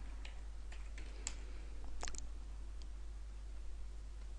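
A few quick, light keystrokes on a computer keyboard typing a search word, scattered soft clicks over a quiet steady hum.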